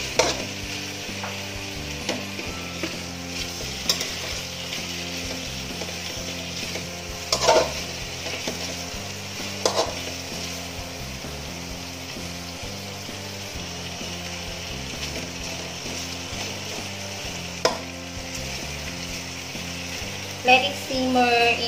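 Lechon manok paksiw cooks in a pan, a steady sizzling simmer with periodic scraping and clinks of a utensil stirring the pieces, close and moderately loud, no voices.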